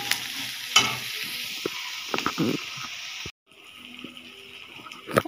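Onions sizzle and fry in a pan while being stirred, with scraping stir strokes and clinks over a steady crackling hiss, close by and moderately loud.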